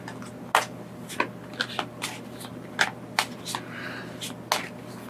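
Tarot cards are handled and shuffled up close, giving a series of sharp, crisp snaps and riffles at irregular intervals over a faint steady hum.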